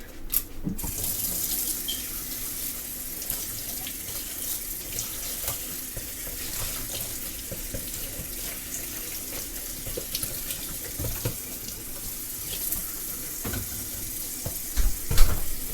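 A kitchen tap runs steadily into a sink while something is washed, a continuous broadband water hiss with occasional splashes and clunks, heard alone for the whole stretch.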